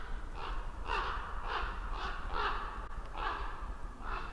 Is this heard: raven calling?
yes